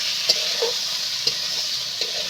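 Soaked, pre-boiled peas fry in spice masala, a steady close sizzle broken by a few sharp stirring scrapes and taps, no voices.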